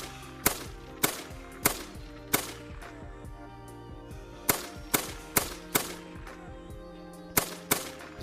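Hunting rifle shots in theHunter: Call of the Wild, about a dozen sharp, loud cracks fired singly or in quick pairs at uneven intervals, each with a short ringing tail over a faint steady background.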